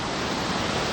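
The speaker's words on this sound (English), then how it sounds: "We're talking about 30 meters of water just thundering down from way up there." A 30-metre mountain waterfall thunders down in a dense, steady roar of broadband rushing water that fills the whole second without any break.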